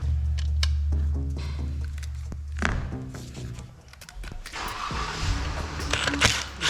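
A Jeep Grand Cherokee Trackhawk Redeye engine cranks and catches, a low rumbling idle followed by sharp mechanical clatter and rising revs, close and fairly loud.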